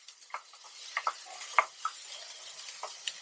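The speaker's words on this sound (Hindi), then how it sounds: "कटा हुआ प्याज डालकर 1 मिनट तक भूनें।" A spoon stirs chopped onion and green chilli in a pan, giving scattered sharp clinks and scrapes over a soft sizzle.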